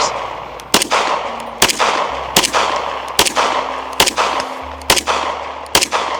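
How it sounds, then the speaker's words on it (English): Bersa 2011 pistol fired at a target on a range, eight sharp, loud reports spaced roughly evenly about a second apart, each with a short echoing decay. "I am shooting at the top left diamond."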